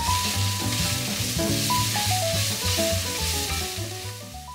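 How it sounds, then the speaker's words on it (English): Shrimp shells fry in hot oil in a pan with a steady, loud sizzle that hisses continuously, while background music with distinct melodic notes plays over it throughout. "Heat up a pan with oil and add the shrimp shells."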